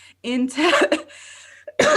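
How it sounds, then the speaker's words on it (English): A single person coughing during a live panel stream, harsh bursts mixed into speech, close and loud. "I fucking coughed through that."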